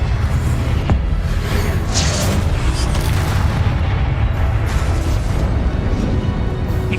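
A Confringo explosive spell blast in Hogwarts Legacy: a loud, dense, sustained rumbling barrage with a sharp crack near the start, heavy low boom throughout and bursts of crackle above.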